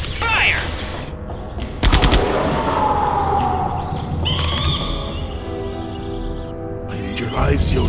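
Bursts of gunfire crack loudly in Jurassic Park The Game: a sharp volley near the start, a heavy burst just before two seconds, and another later. Rumbling action sounds fill the gaps between them.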